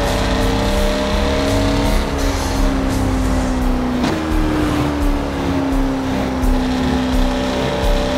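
Yellow sports supercar racing at full speed in a video game, a loud continuous engine drone with a steady whine that dips briefly at one point, no talking.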